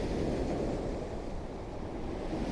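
Calm, still sea water laps softly against stone steps, a gentle steady wash with low wind noise and no voices.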